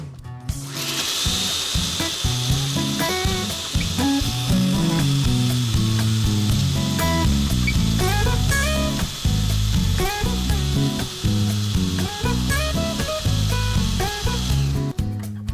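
A food processor blends basil pesto with herbs scraped down from the sides, giving a loud, steady motor whir with a rough grinding edge that runs without a break.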